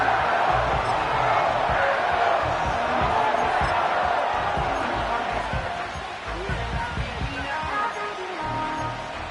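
A football stadium crowd roars in a steady, loud wash of cheering ahead of a third down, with a commentator's voice faintly underneath.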